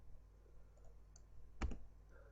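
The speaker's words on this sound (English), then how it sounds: "I'm clicking on this" A single sharp computer mouse click stands out over quiet room hiss while someone works on a web page, with a few fainter ticks before it.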